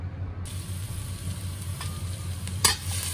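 Onion and garlic sauté in a pan for a tuna and cabbage dish. A steady, close sizzle carries a low hum beneath it, with a sharper scrape or clatter near the end and no talking.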